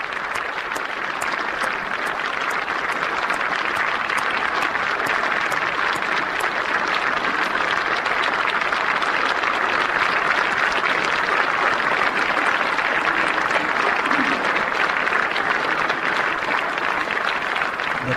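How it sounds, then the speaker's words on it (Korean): Sustained applause fills a large hall as President Park Geun-hye enters to give an address, dense steady clapping from a big crowd with a faint murmur of voices beneath. "지금 박수로 박근혜 대통령의 입장을 환영하고 있습니다."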